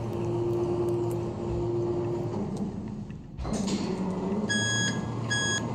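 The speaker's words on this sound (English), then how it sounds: "That's what the alarm sounds like." An elevator alarm in a Roblox game beeps in repeated sharp electronic pulses after a low steady hum cuts out, loud and close, sounding in evenly spaced bursts toward the end.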